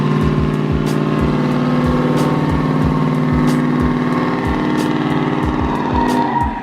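A car revs hard in place during an attempted burnout, its engine holding a loud, steady roar while the rear tires grip instead of spinning, with rhythmic low thumps pulsing underneath throughout.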